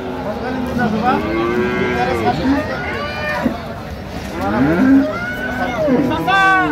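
Several dairy cows moo loudly at Ambari cattle market, Dinajpur, long drawn-out lowing calls overlapping one another, with people talking nearby in a busy outdoor setting.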